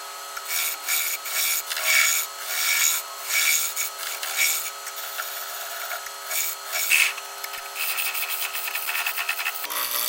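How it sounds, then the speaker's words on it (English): Tool scraping across turned wood on a lathe, a steady high rasping that swells and fades in repeated strokes for about ten seconds, fairly close and with no talking. "I'm just trying to sure scrape my poor tool work out of there."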